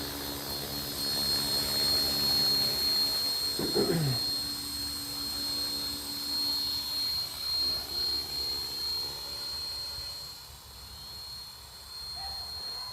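An RC helicopter, a Trex 450, flies close by, giving a steady high-pitched electric whine with rotor buzz that rises and falls slightly throughout.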